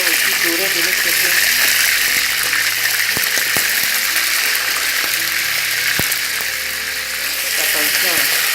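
Spinach searing in a hot pan, a loud dense sizzle running throughout, with a few sharp clicks and light stirring sounds near the start and middle.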